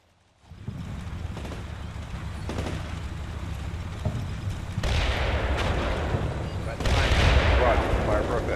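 Artillery barrages rumble in the Cold War strategy game Combat Mission Cold War, a building roll of distant booms and crackling impacts that swells louder in waves as the shelling intensifies.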